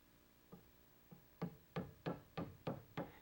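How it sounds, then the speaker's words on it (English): Hammer taps firmly on a waste piece of wood during stair newel work, about seven sharp knocks in steady rhythm, starting soft and growing louder, close by with no talking. "Tap the waste piece firmly with your hammer."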